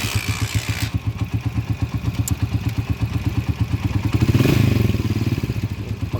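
A motorcycle engine runs rough at idle close by, with a fast rhythmic clattering and ticking from the timing gear, rising briefly as it is revved before settling back.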